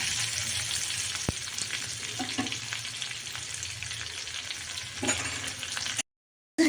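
Onion and green chili sizzle steadily in a hot pan for a Maharashtrian pithla meal, a continuous close frying hiss with occasional stirring scrapes and a short silent gap near the end.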